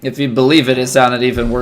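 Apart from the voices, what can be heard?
None of the usual background noises is heard.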